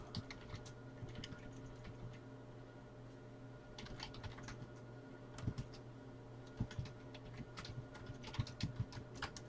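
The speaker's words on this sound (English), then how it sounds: "Sorry for the typing, guys." Computer keyboard typing comes through as quick, irregular bursts of clicking keys over a steady low hum, nearby and fairly faint, with no speech.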